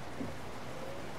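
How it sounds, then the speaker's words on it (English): Rain during night driving in the Euro Truck Simulator 2 truck game, a steady, even hiss of falling rain with no breaks across the short stretch. "When it's dark and it's raining like this"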